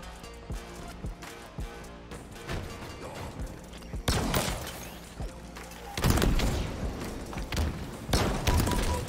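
Grenades go off in Halo Infinite ranked play, several sharp bursts at about four, six and eight seconds that punch up out of quieter clatter and gunfire-like clicks.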